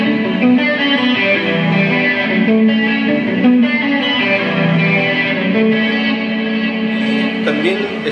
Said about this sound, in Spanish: También está acompañado con una pequeña reverb y un poco de delay.